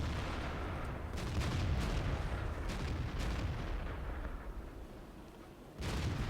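Several 17-pounder tank guns fire in rapid succession during a World of Tanks battle, heard as dense, overlapping booming blasts over constant loud rumbling, with a fresh volley near the end.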